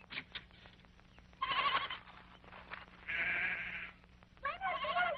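Goats bleating in an animated series set on a mountain pasture, with several loud nearby wavering bleats separated by short pauses and a faint low hum underneath.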